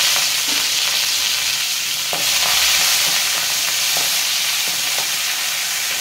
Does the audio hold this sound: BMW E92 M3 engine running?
no